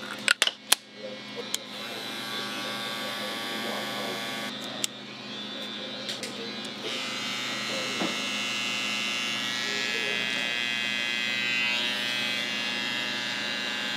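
Cordless electric hair clipper running steadily for the whole stretch, a close, even motor buzz with a few brief clicks and handling knocks near the start.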